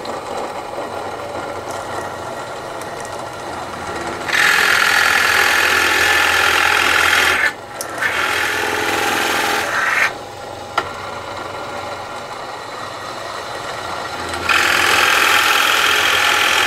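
Drill press boring holes in a wooden curtain rod, loud whining bursts as the bit is pressed down into the wood, separated by quieter motor running between passes.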